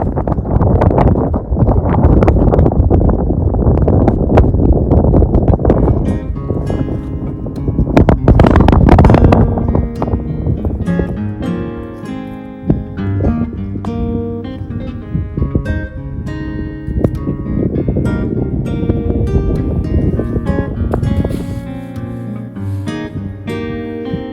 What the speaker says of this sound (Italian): neanche qui il vento ha dato molta tregua